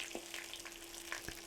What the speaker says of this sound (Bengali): কোপ্তাগুলো আমি প্রায় 2 মিনিটের মতন ভেজে নিলাম